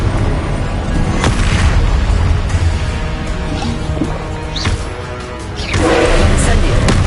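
Confringo, a blasting spell in the video game Hogwarts Legacy, goes off in booming explosive bursts over a steady loud game backdrop, with a heavier blast near the end.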